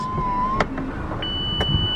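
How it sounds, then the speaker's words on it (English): Mazda MX-5 RF 2.0 SKYACTIV-G automatic retractable hard roof closing, heard close up as a whirring electric motor with steady mechanical tones that shift in pitch, a couple of short clunks as panels seat, then a beep. "the roof comes out, including the rear screen, which is still heated, and comes back into place"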